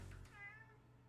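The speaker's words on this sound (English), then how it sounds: "I've got a cat up on the desk." A cat sitting up on a desk lets out one drawn-out meow, close and clear, over a steady low background hum.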